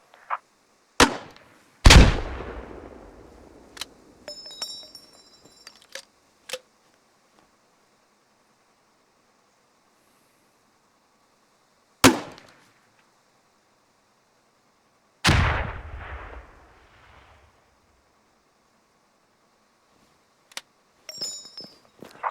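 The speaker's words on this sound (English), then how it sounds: "These fire 40mm grenades and are highly effective against infantry in the open and light vehicles" A 40mm underslung grenade launcher in the Squad video game fires and its grenades burst in sharp, isolated booms with decaying tails, separated by long quiet gaps.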